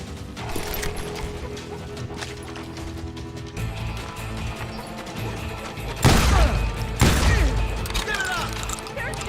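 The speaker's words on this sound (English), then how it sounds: "They're shooting in the street!" In the video game Call of Juarez: Gunslinger, gunfire erupts in a Wild West street. Busy background clatter and mechanical noise build to two loud, crashing volleys close together, and voices may be heard beneath.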